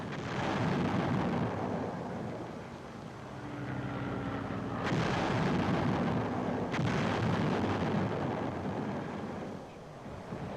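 Artillery and aircraft bombard Japanese positions in wartime footage: a constant heavy, roaring rumble with two sharp blasts cutting through partway along.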